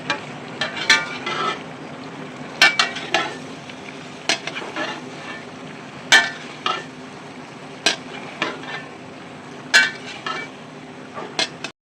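Spice masala and potatoes being stirred and fried in a pot, repeated sharp metal spatula clinks and scrapes against the pot over a low steady sizzle, close and alone.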